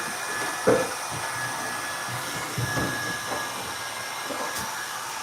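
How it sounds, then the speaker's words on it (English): A hair dryer blowing steadily nearby while drying hair with a brush, a continuous airy whoosh with a few soft bumps and handling noises. "how I do it with the other blow dryer"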